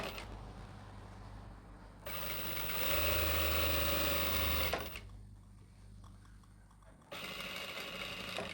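A sewing machine stitches a churidar in two loud, steady runs, the first about three seconds long and the second starting near the end, separated by a quieter pause.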